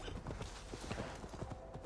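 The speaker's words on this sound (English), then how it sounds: "my horse will have run off as well, so let's call him back in" A horse gallops back in the video game Assassin's Creed Valhalla, its hooves striking in a fast, steady clip-clop rhythm that stays close and fairly loud from start to finish.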